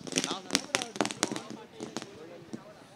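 Firecrackers burst in a quick irregular string of sharp cracks and pops to welcome a group at a grand entry event, some close and loud, then thinning out, with voices in the background.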